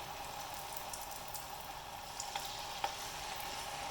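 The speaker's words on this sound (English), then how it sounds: "as this is frying, you want to use a fork or in my case a chopstick to separate the florets" Steady, even sizzle of cauliflower florets frying in hot oil, with a couple of faint clicks of a fork or chopstick separating them partway through.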